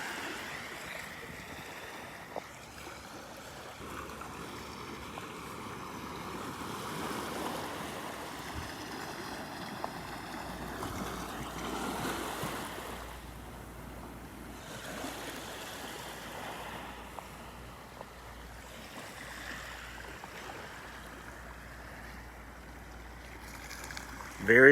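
Ocean surf of one-to-two-foot waves at Pawleys Island washes and rolls steadily in a soft continuous rush, swelling and fading gently under light wind, with faint voices now and then.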